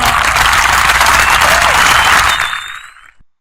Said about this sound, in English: Clap your hands for yourself.